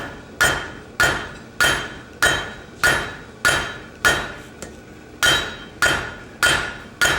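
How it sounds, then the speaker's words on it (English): Hammer blows from a blacksmith working hot metal with the fuller side of the hammer, about eleven sharp ringing strikes in a steady rhythm, close and loud with no talk. "I'm using the fuller side of my hammer"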